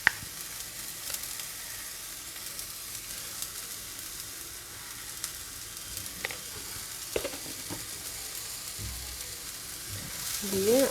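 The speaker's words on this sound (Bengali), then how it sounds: "দিয়ে আমি একটু নাড়বো যতক্ষণ না এটা নরম হয়ে যায়" Chili pakora filling frying in a pan with a steady, quiet sizzle, broken by a few scattered stirring scrapes and a brighter burst of frying near the end.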